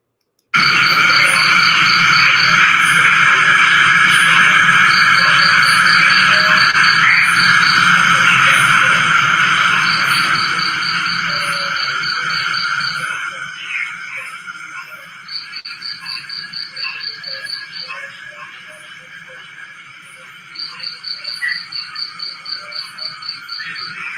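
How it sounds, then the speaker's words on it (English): Outdoor night chorus of insects, with a steady pulsing cricket chirp in repeated bursts over a dense wall of buzzing and trilling, loud at first, then thinning and quieter as the chirping stops and restarts. "So you could hear the cricket, and you could hear it going"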